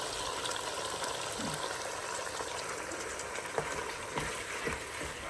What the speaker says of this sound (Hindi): तो साथ ही अब हम ये टमाटर की प्यूरी डालेंगे